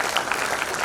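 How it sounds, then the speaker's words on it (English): A short burst of applause from the audience at a convocation ceremony, dense, even clapping with no break. "big round of applause for all the people who are with"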